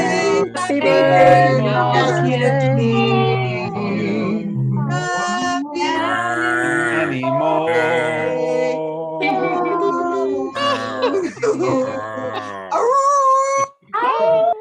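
A dog howls and yips in long, wavering, drawn-out cries that rise and fall, loud and close, with a few short breaks between howls.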